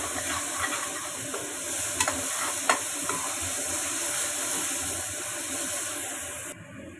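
Masala sizzling and being stirred in a pan with boiled chickpeas, a steady close frying hiss with a few sharp spoon scrapes against the pan, no voices.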